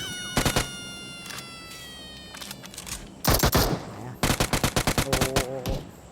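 Gunfire in PUBG played on a small iPhone 6 screen: several rapid bursts of shots in quick clusters, with sharp repeated cracks, loud and close, plus brief gaps between volleys.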